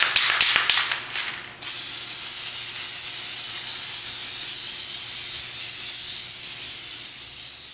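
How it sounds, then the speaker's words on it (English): Spray paint hissing steadily from an aerosol can onto a cardboard cutout for an entrance stage, a continuous loud spray that runs almost the whole time after a brief burst of rattling at the start. "so now I'm able to spray paint the fire"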